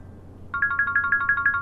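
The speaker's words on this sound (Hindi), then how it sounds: "रूना का फोन है।" A phone ringtone starts after a short quiet stretch, a fast trilling series of bright electronic pulses repeating at an even rhythm.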